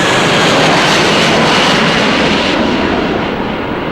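An airplane passes overhead, a loud continuous engine roar that holds strong and then slowly thins toward the end, with no voices over it.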